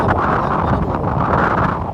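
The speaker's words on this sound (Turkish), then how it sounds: "rüzgar var. Siz de görmüş oldunuz." Strong wind buffets the microphone with a continuous low roar, steady and close for the whole stretch.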